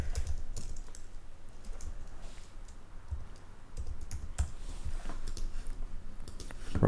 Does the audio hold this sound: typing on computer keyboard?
yes